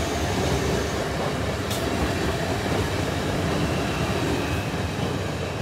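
A train rolls past at a level crossing, heading onto the goods line, with a loud, continuous close-up rumble and faint clatter of wheels on rail throughout.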